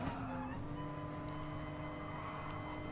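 Porsche GR3 race car in Gran Turismo at the Nürburgring GP circuit, heard from the cockpit as a steady, moderately quiet engine drone holding a near-constant pitch throughout.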